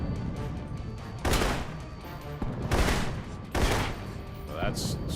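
Blind-fire gunfire in Alpha Protocol erupts in three loud, sustained bursts of rapid shots, separated by short gaps.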